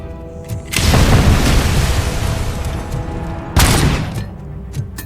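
Grenade explosions in Robocop: Rogue City, two loud booming blasts a few seconds apart, each with a heavy rumbling decay, with no talk over them.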